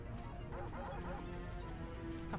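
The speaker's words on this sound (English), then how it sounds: "Stop barking at me, dog." Dog barking in short yips and woofs close by, with game sound and music beneath.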